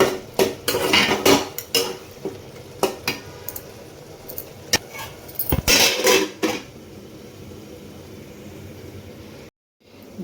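A spoon scrapes and knocks against a pot while egg curry is stirred, close and loud in uneven bursts of clinks and clatter with brief pauses between.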